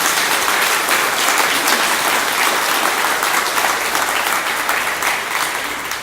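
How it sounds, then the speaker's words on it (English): Loud, dense applause from an audience at a Ford dealership grand opening, honoring first responders and military members, sustained and even throughout, tapering slightly at the end. "let's give them a round of applause for their support today."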